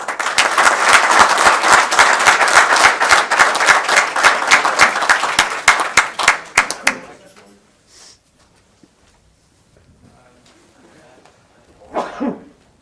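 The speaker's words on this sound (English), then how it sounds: "So a round of applause for you." Clapping from a room of people at a borough council meeting, honoring someone, loud and steady for several seconds before trailing off into sparse claps, quiet room noise, and a brief murmur later.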